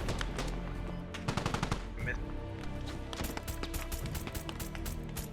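Automatic gunfire from a machine gun in the tactical shooter Squad: rapid bursts and single cracks overlapping at close and middle range, dense and loud throughout, with no talk over the shooting.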